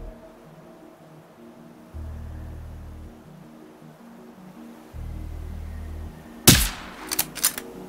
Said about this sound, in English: I feel like I'm shooting right on him